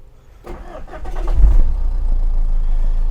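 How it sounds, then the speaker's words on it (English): A car with a failed, repaired instrument cluster starts up close by: a brief starter crank, then the engine catches and settles into a steady low idle. "I'm just going to start the car"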